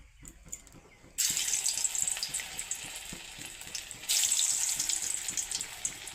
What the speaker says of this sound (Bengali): এবার আমি বড়া আগুন দিয়ে এলাম কড়াইতে, গ্যাসের কমাই দিছি নইলে পুড়ে যাব